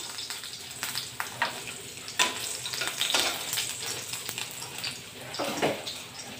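Garlic sizzles and crackles in hot oil in a pan for squid adobo, a steady frying hiss with occasional louder spatters and stirring scrapes, close and without talk.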